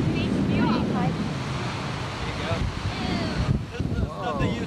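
Ocean waves wash on a beach with a rushing surf roar and wind buffeting the microphone, while people talk nearby.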